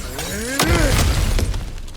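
Objects shattering and breaking apart in God of War Ragnarök, a sharp crash near the middle followed by scattered debris and clatter, loud and close with no talk.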